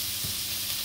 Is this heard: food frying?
yes